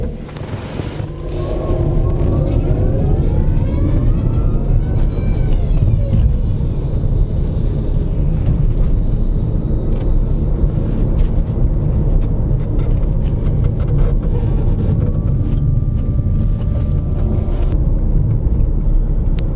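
A 2020 VW ABT e-Transporter T6.1 electric van drives along a road at about 30 mph, with a loud steady rumble of road and wind noise and a faint rising then falling electric motor whine, no talking.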